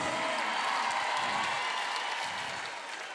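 A concert audience gives a loud, dense burst of applause welcoming a singer, sustained throughout and easing slightly at the end.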